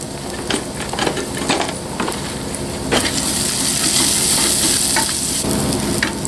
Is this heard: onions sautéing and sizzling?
yes